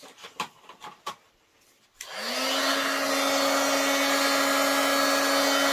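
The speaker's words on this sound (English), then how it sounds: "Get your heat tool hot first, and then gently hold it close but not too close" A heat tool for melting embossing powder in stamp crafting, a few light taps and clicks, then the tool switches on into a loud, steady whooshing blow with a constant motor whine that runs to the end.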